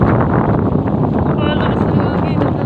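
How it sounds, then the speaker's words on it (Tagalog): Strong wind roars steadily across the microphone outdoors near muddy water where a paddle-wheel boat is being handled, a dense, blustery rumble filling the whole stretch with no pauses. "Lakas na hangin."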